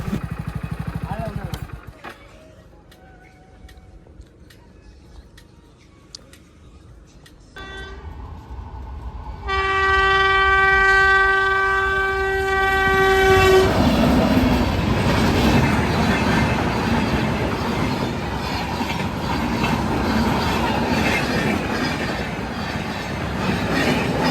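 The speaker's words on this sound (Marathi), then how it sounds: "व्हिडिओ बघत बघत कधी रेल्वेचं गेट आलं समजलंच नाही मग काय थांबलो रेल्वे बघायला" After a quiet wait at a railway level crossing gate, a train horn blares for several seconds, then a passing train rumbles and clatters loudly and continuously along the tracks.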